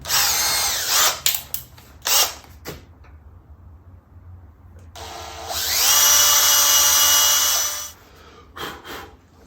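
A power drill bores a hole in a guitar body to fit a strap lock. Several short whirring bursts come first, then one sustained high, close drilling run of about three seconds, then a few brief revs.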